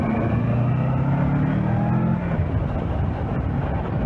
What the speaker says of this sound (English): it's got an awesome sounding exhaust system on it. When you get into the revs, it sounds wonderful.